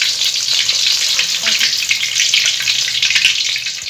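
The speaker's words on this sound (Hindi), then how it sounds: "अब इनको फ्राई करते जाना है इस तरह से।" Kebabs frying in ghee for Lahori hareesa, a loud, continuous bright sizzle with faint stirring underneath.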